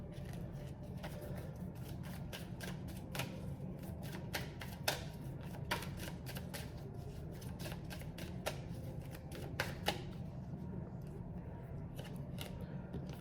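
Tarot and oracle cards from a Divine Masculine deck are shuffled by hand, giving a run of quick, crisp riffling clicks and taps over a low steady background hum.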